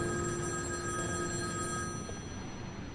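A telephone bell rings once in a steady tone over a low background hum, then fades slightly toward the end, with no voices.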